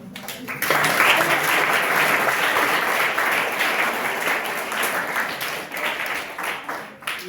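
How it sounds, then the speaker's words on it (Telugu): Sustained applause from an audience at a school breakfast-program event, starting abruptly and holding steady for several seconds as a dense, continuous wash of clapping before tapering near the end. "ప్రతిదానికి చప్పట్లు కొట్టకండి"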